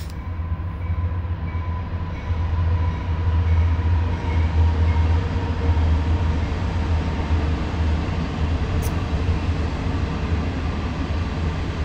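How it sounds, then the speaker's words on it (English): A train rolls past close by, a loud, steady low rumble with a faint high squeal that swells slightly and holds for the whole stretch, with no voices. "There's another train coming by, so we'll see how loud it is."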